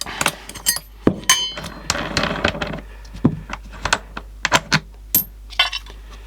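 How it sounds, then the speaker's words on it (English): A metal clamp comes off a fake Makita tool with a run of sharp metallic clinks and taps, scattered knocks that come close and fairly crisp. "Take this clamp off, I should say, with the tool."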